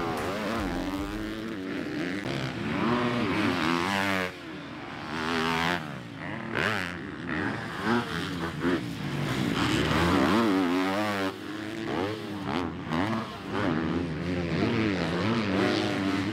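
Several 250cc motocross bikes racing on a dried, rutted outdoor supercross track, their engines roaring continuously and loudly, rising and falling in pitch as they rev and shift.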